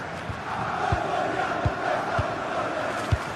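Stadium crowd in a football video game: a steady, loud roar of massed voices fills the clip, with a few low thumps punctuating the wash of noise and no distinct talking.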